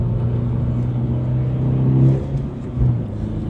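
Manual Subaru BRZ tS accelerating up a highway on-ramp, heard from inside the car: a steady, loud engine drone with a rising rumble and brief dips as gears shift.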